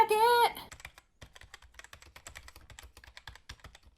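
A computer keyboard clacks in quick, uneven bursts of keystrokes, close and moderately loud, after a brief opening voice.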